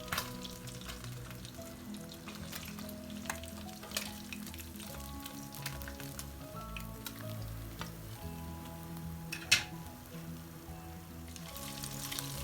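Sardines sizzle and crackle steadily in hot oil, close and fairly quiet, with occasional sharper pops and faint scraping.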